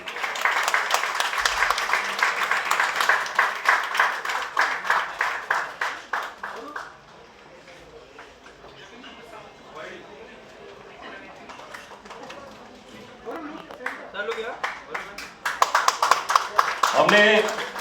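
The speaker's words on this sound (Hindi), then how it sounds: "तालियां यार कम नहीं होनी चाहिए।" Audience claps at a film trailer launch event, with dense applause for the first seven seconds, then a quieter stretch of scattered sounds and voices, before clapping swells again near the end.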